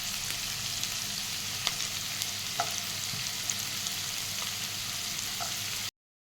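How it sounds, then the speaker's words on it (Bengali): Garlic sizzling in hot oil in a pan while cooking egg chilli, a steady close frying hiss with a few faint clicks of a spoon against the pan, ending abruptly. "রসুনগুলো দিয়ে দেবো।"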